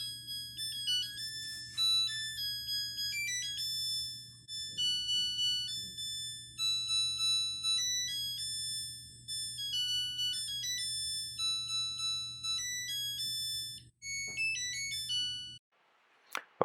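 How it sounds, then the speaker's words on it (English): A Samsung WF45R6100A washing machine plays its electronic end-of-cycle tune, a clear sequence of bright beeping notes over a steady low hum, ending in a short pause and a faint click. "that tune that you heard, that's the actual tune that the machine makes"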